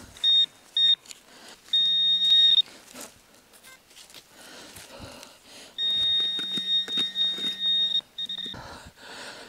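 A metal detector beeps in bursts over a buried signal while searching for relics from a WWII battle site, with short tones followed by long sustained ones, close up, amid scraping digging noises and breathing.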